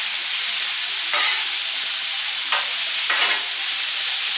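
Philly cheesesteak meat sizzling loudly on a 22-inch Blackstone griddle, a dense, constant hiss broken by three scraping stirs of a spatula against the flat top.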